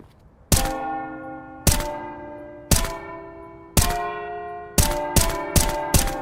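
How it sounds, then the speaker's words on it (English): Bells struck in the Terrorist spawn area of Counter-Strike 2, a series of bright metallic clangs that ring and decay, spaced about a second apart before four quicker hits at the end, with no talking. "In T-spawn too, look at this. We've got bells that make noises."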